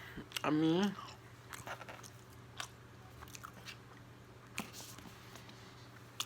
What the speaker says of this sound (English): Eating my burrito.